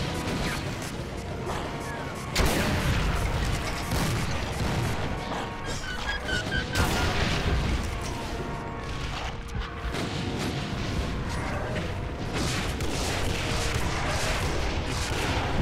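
Constant heavy gunfire and explosions from the Doom map set Hell Revealed 2, played in Complex Doom: dense rapid shots and booms over a loud, unbroken din with no pause, plus a faint voice underneath.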